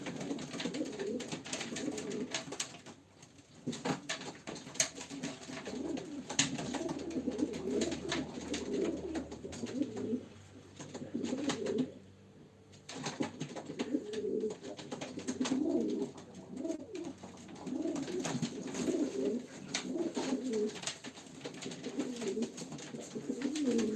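Pigeons coo repeatedly in soft, throaty bursts at a live pigeon auction, several birds close by, their calls overlapping throughout with brief quieter gaps.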